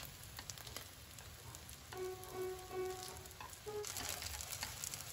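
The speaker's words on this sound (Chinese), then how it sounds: "然后将裹满蛋液的豆腐片放到油锅里煎。" Egg-coated tofu slices pan-fry in oil over low heat for guota tofu, making a faint, soft sizzle with a few light tonal clinks and no voices.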